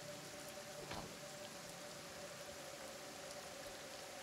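Rain falls in the video game Kenshi as a faint, steady hiss of drops without a break, soft and diffuse throughout.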